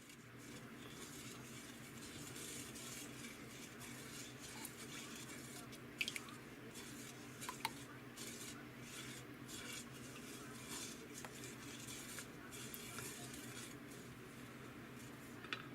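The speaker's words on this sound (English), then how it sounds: "Let's go ahead and add our clear gel slurry. Now mix this all together." A spoon stirs clear gel slurry into canned Chinese vegetables in sweet and sour sauce, a faint, continuous wet scraping and squishing with occasional light clinks against the pot.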